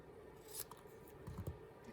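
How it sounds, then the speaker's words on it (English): Paper snips angling the ends of a strip of paper for a Christmas gift box, a few quiet crisp snipping cuts, close and faint with nothing else going on. "I'm going to take my paper snips and just angle these ends."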